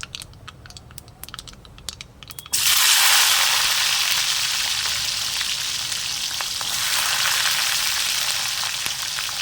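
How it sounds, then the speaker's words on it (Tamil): Peeled garlic cloves drop into hot oil with mustard seeds already popping, bursting into a loud, steady sizzle after a few seconds of faint crackling and staying busy and close to the end. "ஒரு நல்ல பெரிய கைப்பிடி அளவுக்கு பூண்டுங்க தோல் உரிச்சு வச்சுருக்கேன், அதை போட்டுக்கணும்"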